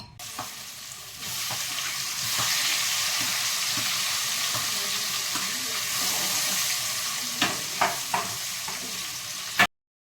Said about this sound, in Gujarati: ઓરો વઘારવાનું.